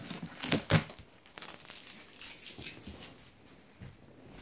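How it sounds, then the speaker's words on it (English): Tape being torn off a cardboard toy box: a few crinkly ripping bursts near the start, then softer scattered rustling and crackling up close, with no talk. "tear it and take the tape off"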